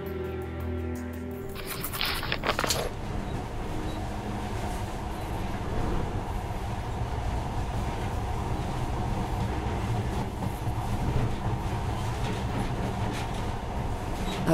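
A monorail train in the video game Metro Last Light runs with a loud, steady rumbling roar. It sets in after a brief quieter start and holds unbroken to the end.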